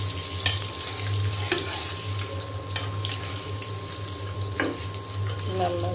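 Eggs fry in a pan with a low, steady sizzle under kitchen clatter and running-water-like hiss, with a few brief utensil taps nearby.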